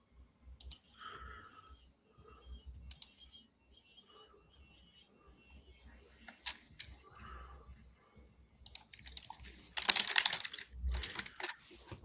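Computer keyboard typing for Discord replies: scattered clicking keystrokes in short bursts, close and fairly quiet, with a denser flurry of taps near the end and no talking.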